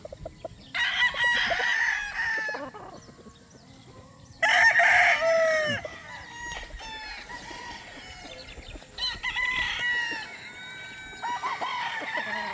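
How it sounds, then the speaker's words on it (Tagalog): Breeder roosters crow loudly in several long calls, with hens clucking between them, close by and without talk, in a chicken farm setting. "Maayos na manok."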